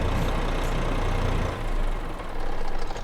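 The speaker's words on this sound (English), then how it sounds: "Nice Renault engine there" A Renault truck engine idles in Euro Truck Simulator 2, a loud, steady low rumble close by that dips slightly in the middle before settling back, with no voices.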